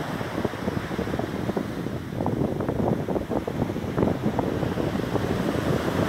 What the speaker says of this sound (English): The sound of the waves gently moving,